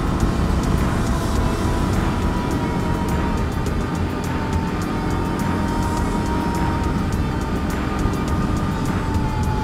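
A 2020 Can-Am Outlander Max Limited ATV is driven, its engine giving a steady loud drone with a faint shifting whine throughout, close and unbroken, with no talking.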